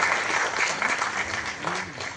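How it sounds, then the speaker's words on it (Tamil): Applause fills a stage hall at a Tamil film's audio and trailer launch, a dense steady patter of many hands clapping, loud and continuous throughout. "பலத்த கரகோஷம் கொடுங்க சார்"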